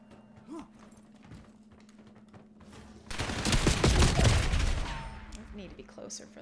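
Shotgun fire in the video game Black Ops 7, a heavy burst of booming blasts in the middle of the clip over game ambience, with a player talking around it.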